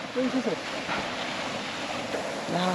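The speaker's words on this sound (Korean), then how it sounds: "와, 멋진 폭포네." Broadband rushing water from a Himalayan waterfall on a mountain trek route, a steady wash of noise under brief voices at the start and end.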